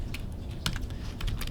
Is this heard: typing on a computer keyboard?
yes